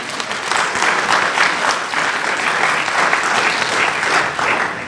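A church congregation applauds during a Sunday sermon service, a steady wash of many hands clapping at even loudness for the whole stretch, with no talk over it.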